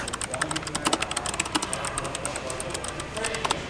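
Fast typing on a new clicky computer keyboard, a quick patter of sharp key clicks, fairly faint and close by.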